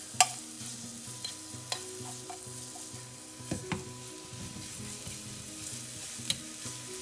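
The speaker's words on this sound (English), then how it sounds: "I've got a hot pan with oil in it. I'm just going to be adding minced garlic to it." Minced garlic sizzles in hot oil in a pan while being stirred, a steady low frying hiss with occasional sharp scrapes and clinks of the utensil against the pan.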